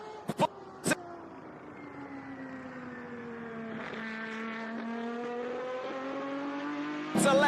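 A small-engined racing car, about 6.5 horsepower, buzzes round a corner on a circuit, its whining engine note dipping then climbing as it accelerates, moderately near, with a few sharp knocks at the start and end.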